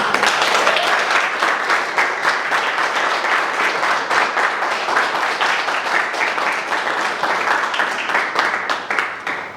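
At an MBA event, a large audience claps loudly and steadily for nearly ten seconds, a continuous dense patter of many hands with no voices over it.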